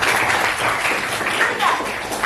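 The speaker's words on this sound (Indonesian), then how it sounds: "Tepuk tangan buat kalian semua." Students in a classroom clap for themselves, a short, even patter of applause mixed with a few voices.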